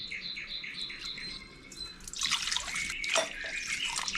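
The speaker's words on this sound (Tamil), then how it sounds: "நான் இந்த கப்பில் 2 கப்பு தண்ணி ஊற்றிக்கிறேன்" Water splashes steadily into a cup after a quiet start, close and bright, with birds chirping faintly in the background.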